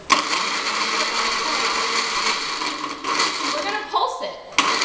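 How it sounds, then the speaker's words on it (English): Kitchen blender pureeing a popsicle mixture, a loud, steady whirring drone that runs throughout, with a couple of short breaks and rattles near the end. "I am going to press puree"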